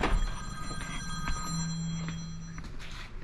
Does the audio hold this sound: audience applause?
no